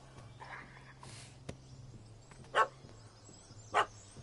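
A dog barks twice in The Witcher III: Wild Hunt, short sharp yaps spaced about a second apart over a faint ambient game background.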